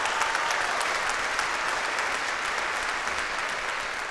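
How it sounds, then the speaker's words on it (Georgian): Warm audience applause for a contestant on a Georgian folk music TV competition, a continuous, even wash of many hands clapping with no voices on top. "მხურვალე აპლოდისმენტებით გემჭიდობებით."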